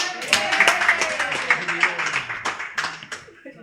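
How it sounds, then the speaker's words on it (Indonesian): A group at a community training session claps hands in uneven, fairly close bursts that thin out toward the end, with voices mixed in. "Tepuk tangan buat dia."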